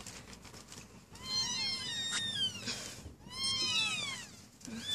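Newborn kittens in a warm box mewing in repeated high, thin calls, several overlapping cries in two clusters, close and fairly loud with no talking.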